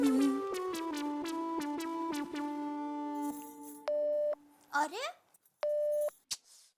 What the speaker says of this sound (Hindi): घर का फोन बिजी आ रहा है।